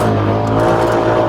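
A quad ATV engine drones loud and close as the machine rides over bumpy terrain, a steady rumbling hum with no breaks or talking.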